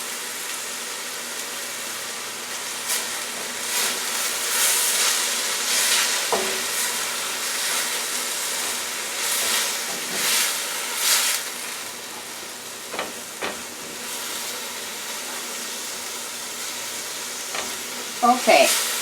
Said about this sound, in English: let's get back to our vegetables cooking